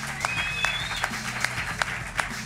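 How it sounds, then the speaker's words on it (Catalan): Scattered applause from a live podcast audience at Casa Gràcia for an arriving guest, with a few sharp claps standing out over murmuring voices and a thin whistle-like tone. "L'ovació és grossa"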